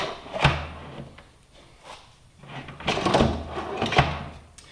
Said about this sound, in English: they just go in, slide into the little tracks.